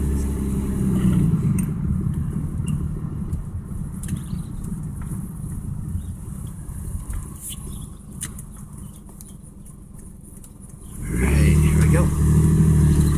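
A Lexus GS300 engine runs rough, spitting and sputtering as if about to stall, a steady low rumble under talk that surges louder near the end.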